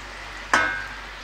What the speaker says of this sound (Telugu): ఈ విధంగా బాయిల్ మీద ఉన్నప్పుడు ఇందులోకి ఫ్రై చేసి పెట్టుకున్న మష్రూమ్స్ని వేస్తున్నాను